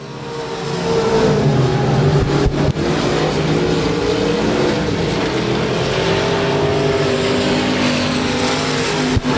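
Limited modified race cars roar around the Rose Bowl Speedway during a heat race, a loud continuous engine drone with shifting pitch as the pack passes, steady throughout with no talk.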